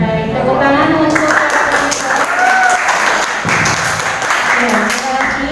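Applause from a school audience at an OSIS (student council) candidate debate, loud and sustained clapping throughout with voices mixed in.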